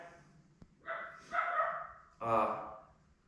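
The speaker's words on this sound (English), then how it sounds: "Damn dog." A dog gives a few close, muffled barks and yips in short bursts in a snowy backyard setting where a snowmobile is being restored.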